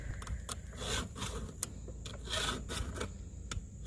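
Hand file sharpening a chainsaw chain, close rasping strokes in a steady back-and-forth rhythm, each pass a short gritty scrape.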